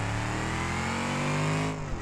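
Car engine in the BeamNG driving game, running on its own with no driver input, a loud, steady mid-pitched drone that slowly climbs in pitch, then drops briefly near the end.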